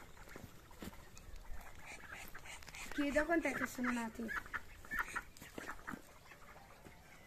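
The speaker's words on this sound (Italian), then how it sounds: "ci sono oche, anatre e anatre germane con gli anatroccoli" At a farm poultry house, geese, ducks and mallards with ducklings cluck and quack in a soft, busy flurry mid-way, while people speak nearby throughout.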